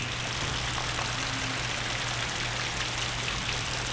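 Loud, steady rain sound effect: a dense, even wash of falling drops and spatter that runs without a break, with no voices.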